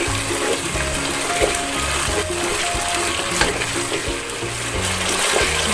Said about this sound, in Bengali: টকদইটা দিয়ে আবার বেশ কিছুক্ষণ ভালো করে কষাতে হবে।